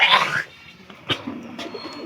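Domestic pigeons coo softly in a coop with several compartments, giving low, murmuring calls in the second half. A brief rustle and a sharp tick break the quiet.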